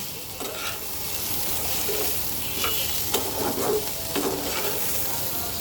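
Red lentil mixture with turmeric and coriander powder being stirred and fried in a pan, a continuous close sizzle with occasional scraping strokes of a spoon, with no talking.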